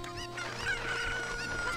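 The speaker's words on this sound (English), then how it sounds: "I'm gonna return your chickens to you post-haste." Chickens cluck in the Ocarina of Time video game, a steady run of close, busy fowl calls with game music and effects underneath and no talking.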